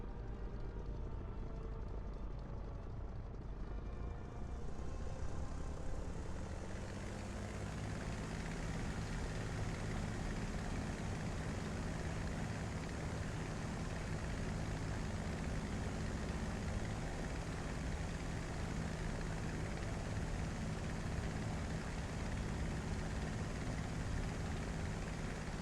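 A steady, dense roar of aircraft engines running in the War Thunder combat game, including a Spitfire, swelling after a few seconds into a constant broadband drone that holds loud and unbroken throughout.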